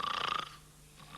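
A short, loud snore, a rough rattling inhale that fades into a quieter breath, close and alone.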